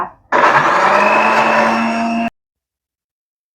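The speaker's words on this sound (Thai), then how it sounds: "เราก็ปั่นต่อไปอีก จนกว่าส่วนผสมจะเข้ากันนะคะ" A kitchen blender whirs loudly and steadily for about two seconds, blending chili paste for Thai nam phrik ong, then cuts off abruptly into silence.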